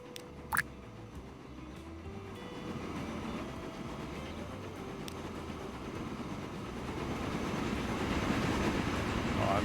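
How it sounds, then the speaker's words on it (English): A steam train from the game Transport Fever 2 rolls along with a continuous rumbling, clattering run that slowly grows louder, with a brief sharp hiss near the start. "Classic steam train."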